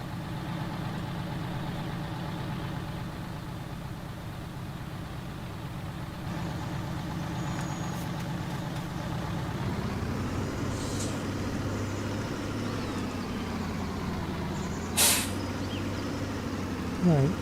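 Tractor engine in Farming Simulator on Spectacle Island, a steady low drone running throughout that rises in pitch and load midway, with brief higher mechanical squeals near the end.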